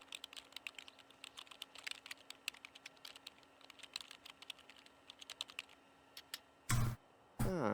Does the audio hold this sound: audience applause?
no